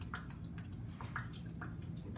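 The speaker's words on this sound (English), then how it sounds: "I gotta put a little Worcestershire sauce in here." A little Worcestershire sauce is poured into a pot of stuffed bell pepper filling, making faint, soft dripping splashes over a low, steady background rumble.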